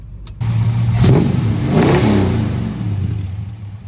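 A 1969 Plymouth GTX 440 V8 needing tuning revs up close and loud, holding a steady rumbling idle before two rising throttle blips, then settling back to a deep lumpy idle.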